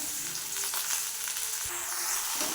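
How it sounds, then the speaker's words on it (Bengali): Jujube fruit coated in salt and turmeric sizzles steadily in a frying pan while being stirred for pickle, a continuous close broadband hiss with faint scraping stir sounds. "একটু বেশ কিছুক্ষণ নাড়াচাড়া করবো"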